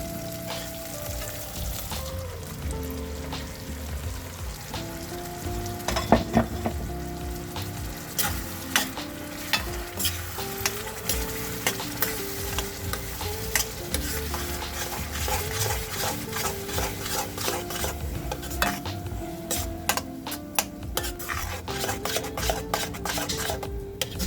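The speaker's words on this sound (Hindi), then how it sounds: "अब हम ये प्यूरी मसाले में डाल देंगे।" Tomato-onion puree hitting fried spices in a pot for dhaba-style matar paneer, a loud steady sizzle with repeated metal spoon scrapes and clanks against the pan as it is stirred, no speech.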